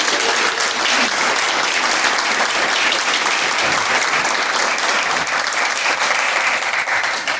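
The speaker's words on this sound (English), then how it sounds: "Can y'all just give her a round of applause, please?" A meeting audience gives a sustained round of applause, dense steady clapping filling the room for several seconds without a break.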